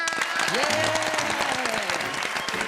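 Studio audience applause on a Taiwanese family cooking competition show, a dense steady wash of clapping with voices and tonal sounds mixed through it for the whole stretch.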